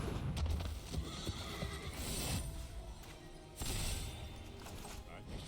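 Horse neighing effect from Magic: The Gathering Arena, a whinny with clip-clop hooves layered over game sounds, repeating in two louder swells while a player talks.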